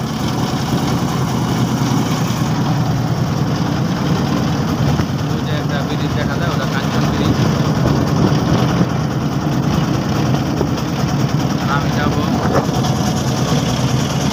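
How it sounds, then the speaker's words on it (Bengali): A steady low engine drone runs throughout, a large trawler's motor chugging beneath someone talking. "এখন আমি ট্রলার দিয়ে যাইতেছি। বড় একটা ট্রলার নিয়ে আমরা ডিমানার উদ্দেশ্যে যাইতেছি।"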